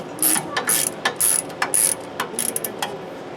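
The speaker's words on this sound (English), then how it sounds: "we still have to remove the caliper bracket to get the rotor off, and those are both 15 millimeter" Close, loud ratchet clicking while a 15 mm caliper bracket bolt is backed out on a Ford Ranger during front brake work, sounding in quick uneven strokes of sharp mechanical pawl ticks.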